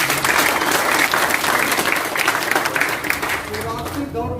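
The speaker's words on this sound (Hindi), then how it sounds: "एक बार ताली बजाइए।" Dense applause from an audience at an RCM seminar in Goa, steady and loud for several seconds, with a voice speaking over it near the end.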